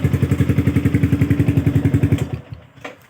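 Yamaha M-Slaz motorcycle fitted with a 14-inch Akrapovic exhaust, idling close and loud with a rapid, even thumping beat before the engine note cuts away, followed by a brief faint blip.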